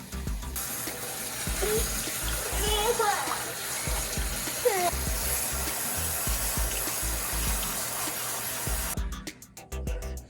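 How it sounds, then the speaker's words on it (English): Water runs steadily over a child's hair during rinsing, a continuous splashing flow with soft voices talking quietly beneath it. "And when you're rinsing, again, try not to zhuzh up the hair too much."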